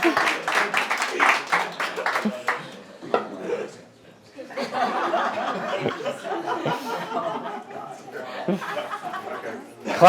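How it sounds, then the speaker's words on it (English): A crowd claps and laughs, breaking into applause after a pause, with chatter and voices mixed throughout. "Everybody, round of applause."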